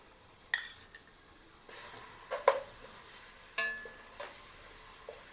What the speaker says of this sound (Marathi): ती चांगली परतून घ्यायची.